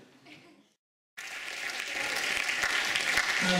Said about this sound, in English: as soon as he walks in, just clap your hands